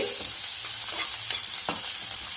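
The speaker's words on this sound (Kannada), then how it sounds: "ಮೊದಲೇ ತಗೊಂಡಿರೋ ಆನಿಯನ್ನು, ಇದು ಫುಲ್ ಬ್ರೌನ್ ಆಗೋ ತನಕ ಫ್ರೈ ಮಾಡಿ" Onions frying in a pan for curd sambar, cooking until fully brown; a dense, loud, constant sizzle fills the clip, broken by a few sharp stirring scrapes.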